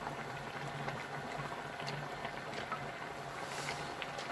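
Nigerian pepper soup with onions and spinach boils in a pot, giving a steady, even hiss with faint low bubbling that never pauses. No one speaks.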